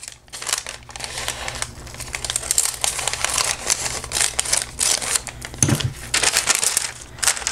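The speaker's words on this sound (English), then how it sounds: "this end, we're going to trim with the deckel scissors" Deckle-edge scissors snip and crunch through paper close by, a busy run of crisp cutting and crinkling sounds with brief pauses.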